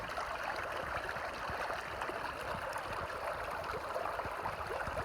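Water runs through a gold-prospecting sluice loaded with garnet-rich sand, a close, steady gurgling and splashing flow with small crackling trickles and no speech.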